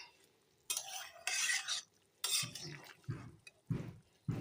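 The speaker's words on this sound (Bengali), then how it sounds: "এখন একটু নেড়ে দেই" Bora dumplings being stirred in syrup in a pan, with bursts of scraping and sloshing separated by short pauses, plus soft thuds of the spoon against the pan.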